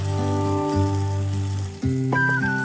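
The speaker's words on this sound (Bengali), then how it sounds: "আমাদের মাছটা ভাজা হয়ে গেছে, চুলাটা আমরা বন্ধ করে দিচ্ছি" Bata fish fries in a pan with a continuous moderate sizzle under a steady stove-like hum, the tone shifting briefly near the end.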